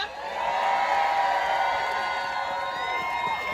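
A large outdoor rally crowd in Philadelphia cheers and whoops continuously, a dense roar of many voices with scattered shouts, loud and steady with no clear speech.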